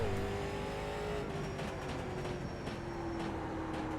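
A late model stock car in iRacing at USA Speedway drones at steady high revs, its engine note sliding slightly lower through a corner, loud and continuous throughout.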